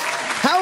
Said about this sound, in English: I'm clapping to that. Like that.